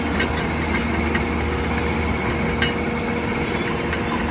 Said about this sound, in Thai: นี่ครับเร่งสุดมันก็จะมี เสียงสายพานครับ